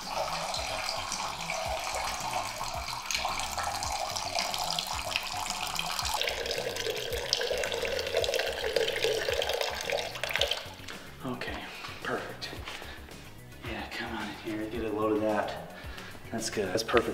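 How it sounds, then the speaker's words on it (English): Tap water pouring into a 5-gallon bucket, a steady gushing splash whose tone shifts as the bucket fills, continuous and close for the whole stretch. "you're gonna wanna grab a bucket, 5 gallons preferably, and some water, and you're gonna wanna fill this thing up."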